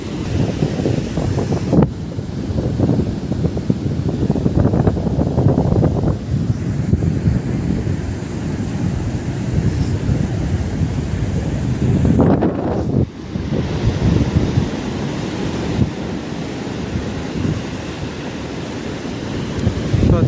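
Rough sea crashes and roars on the beach at Paradip, with strong wind buffeting the microphone in a continuous loud wash and surges of breaking waves throughout, and no talk.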